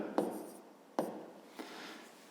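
Pen writing on paper during a fifth-grade maths exercise, with three short scratchy strokes separated by brief pauses, close and quiet.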